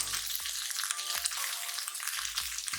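Okra frying over high heat in a pan for bhindi bhaji, a steady loud sizzle with three sharp stirring scrapes spaced through it, no talk.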